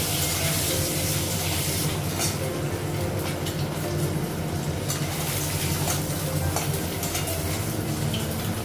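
An egg fries in hot oil with turmeric in a Bengali home kitchen, giving a loud, steady, close sizzle with scattered sharp crackles and pops throughout, and no voices over it.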